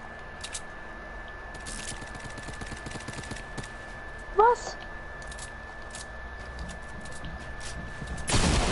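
Bursts of rapid gunfire from the video game Fortnite crackle through the first few seconds, with voices talking over and around the shots.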